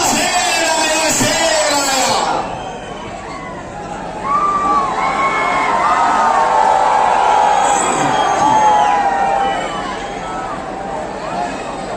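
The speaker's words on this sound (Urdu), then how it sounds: "آپ کی بھرپور تالیوں میں آپ کے اپنے محبوب و مقبول لیڈر حضرت مولانا مفتی محمد" Crowd cheering and shouting at an election rally, loud excited voices and whoops swelling and fading in waves over a steady crowd noise, with a voice heard near the beginning.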